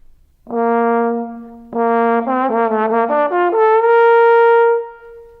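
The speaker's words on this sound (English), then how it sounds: "When you put the mouthpiece back in the horn, the trombone sounds like this." A trombone plays alone: two sustained low notes, then a quick run of short notes, ending on a long, held higher note.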